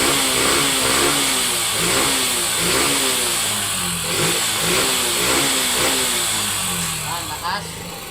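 A Yamaha XTZ125 motorcycle fitted with a Wave 125 CDI revs up and down repeatedly at close range, its engine note rising and falling in loud pulses while someone talks over it.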